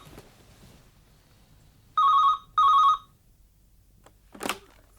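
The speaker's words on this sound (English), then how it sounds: "Just let me answer this phone" Two bursts of an old-style telephone bell ringing in a quiet room during a radio drama, each about half a second long, loud and close, followed by a brief rustle.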